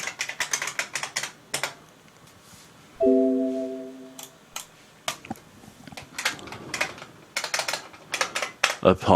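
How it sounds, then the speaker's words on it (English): Rapid clacking keystrokes from an old IBM Model M keyboard come in loud bursts of typing, briefly broken by a short electronic beep, then resume in quick, noisy clusters. "IBM Model M keyboard, and they are the loudest, clackiest, noisiest things you've ever heard"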